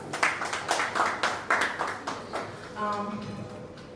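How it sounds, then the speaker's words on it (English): Audience at an informal book release party claps in a burst of applause, quick irregular hand claps close by, with voices mixed in. "Please a round of applause for yourselves."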